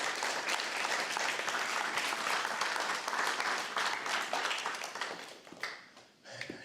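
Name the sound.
audience applause at guide dog graduation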